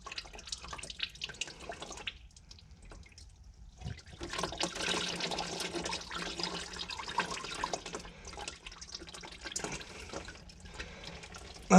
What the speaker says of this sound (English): you can see it slowly dripping off of the steering rack